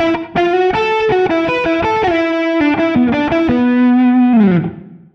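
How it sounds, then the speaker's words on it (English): Artist LP60PRO electric guitar played through distortion and effects on both pickups, with the rear pickup's tone control turned fully off: a loud, sustained single-note melodic line that closes on a long note fading away. "Both pickups, but with the tone control of the rear pickup turned off completely."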